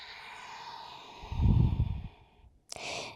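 A long, audible exhale during a morning yoga routine, a soft breathy rush swelling in the middle then fading, followed by a short sharper breath sound, close and alone without speech.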